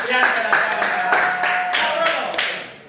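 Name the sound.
classroom applause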